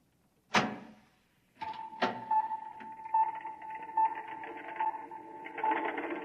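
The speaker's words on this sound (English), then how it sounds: "Open the door." A door opens in a radio drama scene: a sharp click, then a second clack and a sustained mechanical hum with a faint steady whir, fairly quiet and close.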